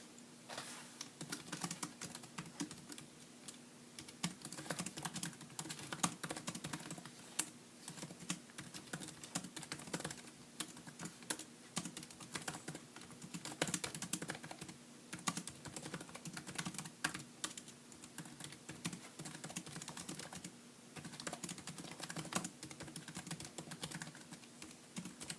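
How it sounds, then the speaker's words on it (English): Steady, fast typing on the keyboard of a 2013 11-inch MacBook Air, with dense light key clicks running on continuously at close range and no talking. "Let me show you guys the keyboard in action."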